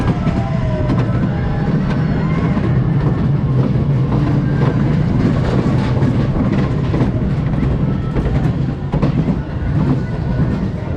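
The Runaway Train amusement ride at Botton's Pleasure Beach in Skegness rumbles and clatters along its track, a loud, close, continuous roll of rattling wheels and rushing wind, with faint voices underneath.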